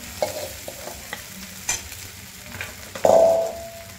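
Potatoes, green chillies and sago frying over high heat while stirred in a pan, scattered scrapes and knocks over a low sizzle, ending in a louder burst of hissing.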